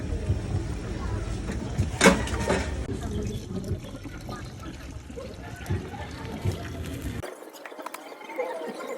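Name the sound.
water poured into cooking pot of mung beans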